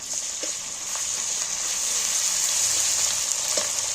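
Garlic and ginger paste frying in hot oil with browned onions for chilli fish, a steady bright sizzle with a few soft stirring taps, no talk.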